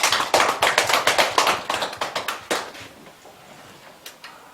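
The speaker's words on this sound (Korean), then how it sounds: "우리에게 은혜 주신 하나님께 영광의 박수 올려드리겠습니다." A church congregation at a Korean Sunday service claps in a quick, steady, unison rhythm that fades out, followed by a couple of scattered late claps.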